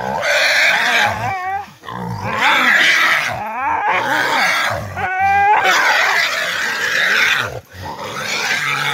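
Hunting dogs bark and howl excitedly at a wild pig during a moonlit pig hunt on private land in New Zealand, with loud, overlapping yelps, growls and squeals that continue almost without pause.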